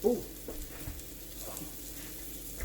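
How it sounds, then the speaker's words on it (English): Onions with seasoning softening in a pan give a low, steady sizzle and faint crackle throughout, with occasional soft stirring bumps and no talking. "I have my onions cooking already"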